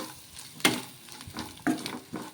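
Chicken seasoned with chili powder being stirred in a pan, a few distinct scraping stirs with a soft sizzle beneath, fairly quiet and close with no voices.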